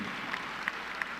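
A graduation audience at the FAMU Spring 2018 commencement applauds the commencement speaker with a steady, distant wash of clapping, fairly faint throughout the short stretch.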